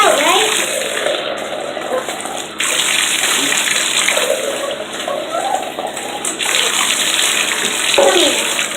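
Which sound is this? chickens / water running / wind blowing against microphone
water running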